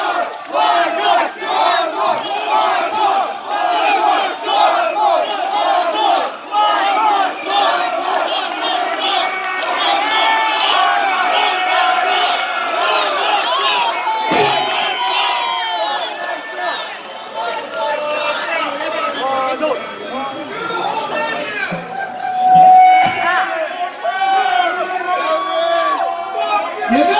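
A concert crowd at a show at Transplants Brewing Company in Palmdale, California, cheering, whooping and shouting loudly and continuously, with many overlapping voices and a burst of louder yelling near the end.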